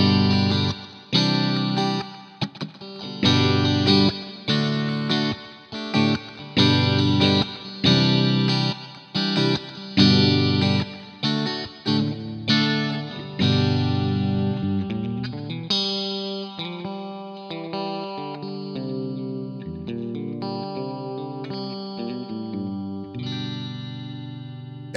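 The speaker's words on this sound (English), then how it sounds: "It's nice, again, it's springy. It reminds me of amp reverb" An electric guitar runs through a Fuzzrocious Afterlife V2 reverb pedal, giving a springy, amp-like reverb. Strummed chords ring out in a steady rhythm, then single notes trail off into a wash of reverb.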